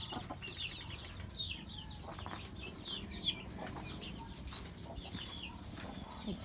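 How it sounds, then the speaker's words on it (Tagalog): Several chickens cluck and call around a family home's yard in the Philippines, with scattered bright squawks and calls over a steady low rumble of outdoor background noise, fairly close but moderate in volume. "Ayan, daming manok oh."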